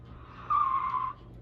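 Sports car sound effect in a puppet show: a single skidding, tire-squeal-like screech rises over a steady low hum, holds for about half a second, then fades out.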